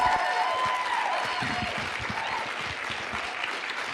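Live audience at a political event recorded for AM 560 radio breaks into sustained applause, a dense wash of many hands clapping that holds steady and fades slightly over a few seconds, with faint voices underneath.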